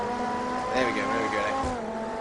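Race car in Total Immersion Racing brakes into a corner, tires squealing briefly over a steady engine drone while someone talks over it.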